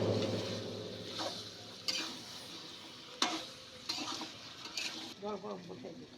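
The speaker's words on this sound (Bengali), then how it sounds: "এবার আমরা দিয়ে দেব একটা মিট মশলা বেশ মিট মশলা দিয়ে আর কিছুক্ষণ কষাতে হবে" Goat meat stir-frying in oil with meat masala, heard as a quiet, low sizzle fading under intermittent spoon scrapes and taps against the pot.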